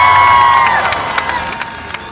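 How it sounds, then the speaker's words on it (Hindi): Large crowd at a PTI political rally in Gujrat cheers and shouts loudly, a swelling roar of many voices with scattered whoops and claps that slowly eases off. "एक बार भरपूर तालियां"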